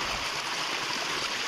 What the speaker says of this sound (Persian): این وسط چه آب باحالی داره میاد